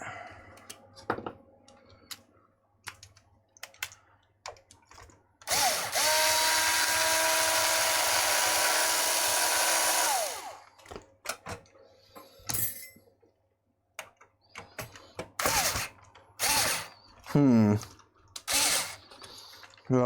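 Electric screwdriver with bits from a drill bit set trying to turn a chewed screw, a loud buzzing whir for about five seconds, then short clicks, taps and brief bursts amid quiet room noise.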